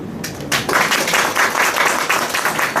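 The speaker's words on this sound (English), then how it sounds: "I was hoping for an applause" Audience applause at a motivational talk: a crowd claps steadily for a few seconds, a loud, even patter of many hands filling the room.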